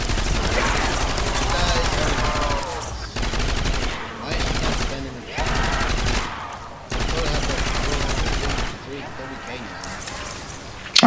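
Bursts of automatic gunfire in Call of Duty zombies on a lighthouse map come in long, dense rattling stretches broken by short pauses, with players talking over much of the shooting.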